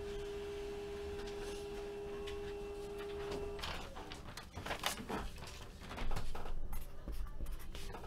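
A printer prints a checklist page, with a steady mechanical whine followed by clicks, scrapes and sliding paper-feed noises that grow louder toward the end, fairly faint and with no talk.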